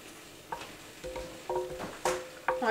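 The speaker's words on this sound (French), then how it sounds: "Je vais mélanger un petit coup." A spoon stirring homemade kombucha in a container, several soft separate clinks and swishes at a quiet, close level with pauses between them.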